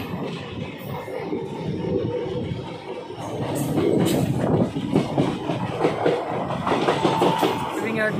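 Rumbling train noise with rattling carriages builds steadily as the Ambala Delhi Intercity Express departs Meerut Cantt railway station, the rolling clatter growing louder as it pulls away, with voices talking faintly underneath.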